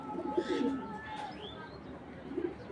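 A female racing pigeon coos softly in a few low, rolling phrases close by, with faint background noise and a brief chirp from another bird.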